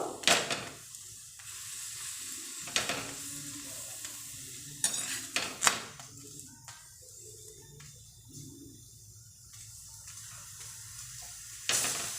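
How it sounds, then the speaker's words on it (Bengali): A methi paratha fries in a pan with a soft, steady sizzle, broken by a few sharp scrapes and clatters of a spatula turning and pressing it, close by with no talk. "একটু লাল লাল করে পরোটাগুলোকে ভেজে নিব।"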